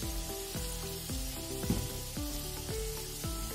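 Shredded cabbage and peas fry with turmeric and garam masala in a hot pan, giving a steady close sizzle broken by regular stirring strokes about every half second.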